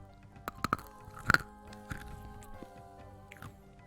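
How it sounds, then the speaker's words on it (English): Crunchy candy shaped like senzu beans being chewed close to the mouth, a few sharp bites and crackles spaced out over several seconds against a quiet room. "You can hear the crunch"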